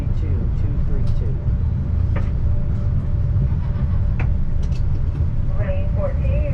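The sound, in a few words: Pikes Peak cog railway train rolling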